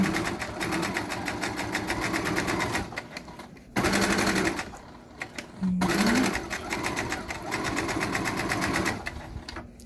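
A sewing machine runs steadily while stitching fabric for a surgical skull cap, giving a loud, close, rapid mechanical whir in long runs broken by brief pauses, with faint speech now and then.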